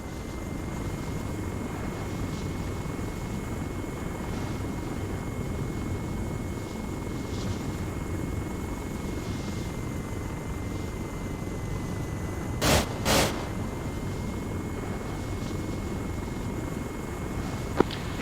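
A military helicopter in a video game keeps up a steady, continuous rotor and engine drone for the whole stretch, with two brief sharp bursts near the end cutting above the hum.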